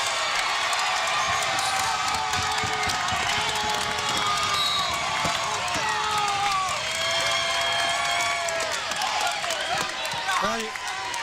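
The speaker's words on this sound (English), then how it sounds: "I'm not sure what all the screaming is for." A high school girls' basketball crowd in a gym screams and cheers steadily as the team enters, loud continuous shrieking and whistling with clapping throughout.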